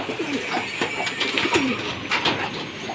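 Racing pigeons coo and call close by, several repeated throaty coos and warbles overlapping in an uneven rhythm.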